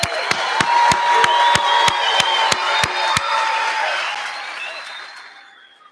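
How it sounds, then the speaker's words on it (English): Graduation audience at a CT State Middlesex commencement breaks into a big round of applause, with a dense wash of clapping over a rapid series of sharp, evenly spaced loud knocks, the clapping then tapering off and fading out. "One more big round of applause for everybody."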